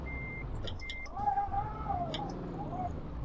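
Euro Truck Simulator 2 truck reversing on a German federal road, with short electronic reversing beeps sounding intermittently over a low engine rumble while game tones drift through and a voice speaks briefly.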